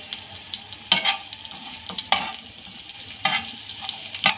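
Mixed vegetables for kebabs fry golden in a pan, with a steady soft sizzle broken by several sharp scraping stirs at irregular intervals, close and clear with no talk.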